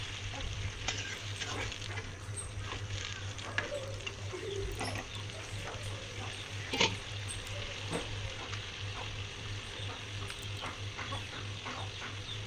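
Papaya and potato cook in a pan for an egg curry after a little water is poured in: a quiet, continuous simmering sizzle over a low hum, with occasional faint clinks of a spoon.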